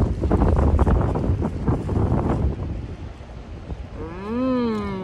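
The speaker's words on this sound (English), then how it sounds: "it's getting windy and cold" Cold wind blows hard across the microphone outdoors before rain, making loud gusty rumbles that ease off. A lowing, moo-like call rises near the end.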